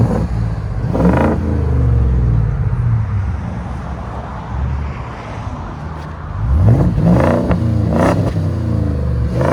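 A 2020-or-later Ford F-250 Super Duty with the 7.3L Godzilla V8 and Borla exhaust revs loudly nearby, two rising throttle blips separated by a steady deep idle rumble, with no talking.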